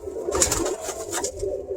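A young Birmingham Roller pigeon coos softly at close range, giving a few low, rounded throaty calls in quick succession with no other sound around them.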